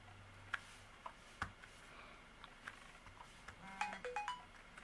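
A mobile phone ringtone chimes a short tinkling melody at a distance, over a low room hum, mixed with soft ticks and taps from rubber stamping on a craft table.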